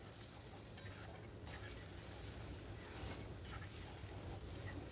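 Ground spice paste for a vegetarian potol aloo korma fries in a pan, giving a steady, close hiss and sizzle with faint stirring scrapes throughout and no voices.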